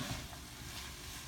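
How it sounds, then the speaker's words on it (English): Bok choy leaves stir frying in a pan, a soft, steady sizzle with faint stirring scrapes near the start, heard alone at low volume. "you just keep adding and stir frying as much as you can"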